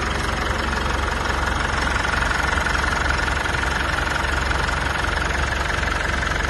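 A Mitsubishi L200 engine idles smoothly and loudly up close, a steady rumbling purr with a fine ticking texture and no talk.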